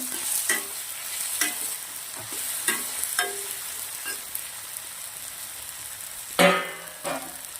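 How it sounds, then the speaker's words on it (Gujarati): Okra sautéing in hot oil with onion, garlic and tomato, a steady soft sizzle broken by repeated spoon scrapes and taps as it is stirred, with one louder clatter near the end. "ભીંડાને તેલના અંદર સાંતળી લેવાના છે સરસ, ડુંગળી લસણ જોડે ટામેટા જોડે."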